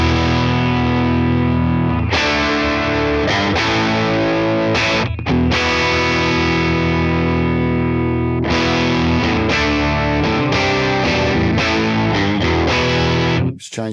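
An electric guitar played through a Tone King Imperial preamp pedal with the gain raised rings out in distorted chords and sustained notes, loud and close, with brief pauses between phrases and no talking.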